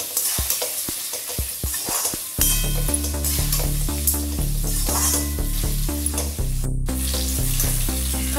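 Brinjal sizzles and fries in oil for vathakuzhambu, with close stirring and scraping in the pan, heard loud beneath steady background music.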